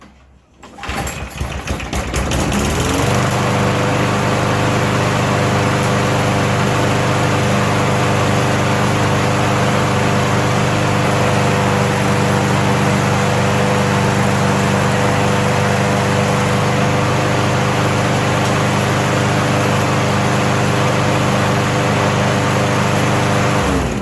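A small engine, freshly repaired auto choke system, cranks with a brief rattle, then catches and settles into a loud, steady, close idle that holds evenly for the rest of the run.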